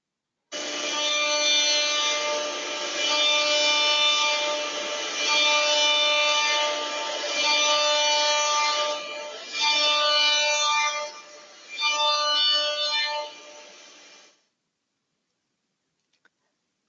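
A CNC machine mills a pocket in aluminum 6061 using insert cutters, giving a sustained, tonal cutting whine that runs for about fourteen seconds, with a few dips in level, before stopping abruptly into silence.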